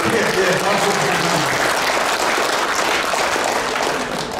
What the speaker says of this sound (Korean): 우리 크게 네, 박수 부탁드립니다